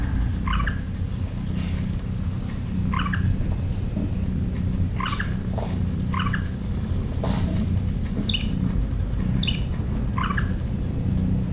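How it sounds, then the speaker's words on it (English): A kitten's steady, low rumbling purr fills the whole stretch, close and continuous, with a few faint high chirps scattered over it. "Oh, such a nice purr."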